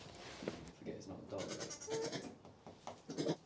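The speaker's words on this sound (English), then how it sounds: "my current two little pet pygmy goats, Spud and Smokey" Pygmy goats bleating on a farm in short calls, mixed with a person talking and cheering nearby over the animals.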